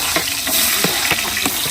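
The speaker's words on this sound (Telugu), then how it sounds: "సో ఇలా ఉల్లిపాయలు ఇలా ఈ కలర్ వచ్చేంత వరకు బాగా వేయించాలన్నమాట" Onions frying in a pan for fish curry, a steady close sizzle with a few brief scraping stir strokes throughout.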